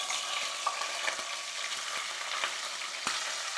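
Chopped green chillies and fish coated in turmeric, chilli powder and salt tempering in hot oil, a steady close sizzle and crackle with a few sharp pops and stirring sounds, no voices.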